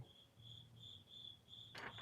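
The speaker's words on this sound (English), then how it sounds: "there's a very loud cricket in here again." A loud cricket chirps indoors in a room, with short, evenly spaced high trills repeating steadily and close by, alone without talk.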